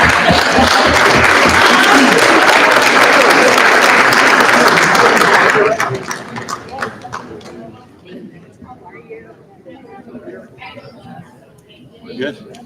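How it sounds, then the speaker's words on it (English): A crowd at a city council meeting in Norwalk bursts into loud cheering and applause for several seconds, then it cuts off sharply, leaving scattered voices talking nearby. "Now you cheer."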